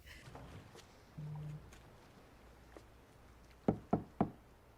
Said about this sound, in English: she's knocking too light